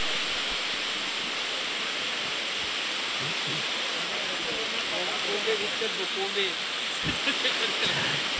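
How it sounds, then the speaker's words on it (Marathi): Heavy rain pours down on a cricket ground during a local tournament match, a dense, constant hiss filling the scene with a few brief knocks near the end. "मैदानावरती पावसाचे मुसळधार आगमन आपल्याला पाहायला मिळत आहे"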